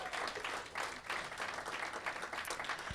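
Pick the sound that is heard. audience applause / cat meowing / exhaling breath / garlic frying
audience applause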